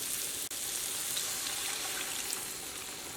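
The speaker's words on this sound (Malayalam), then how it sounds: "നമ്മുടെ കറി നന്നായിട്ട് തിളച്ചിട്ടുണ്ട്" Chickpea curry for chole masala boils steadily in a pot, giving a continuous close bubbling and sizzling hiss with one brief dip near the start and no voices.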